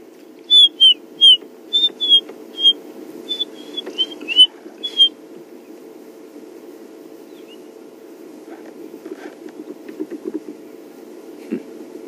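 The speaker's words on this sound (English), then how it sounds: "Little waxbills with their waxy or their very strident little whistles." Waxbills on a morning safari drive give a run of strident high whistles, about a dozen short bright notes in quick succession, then quieter scattered chirps over a constant low vehicle engine hum.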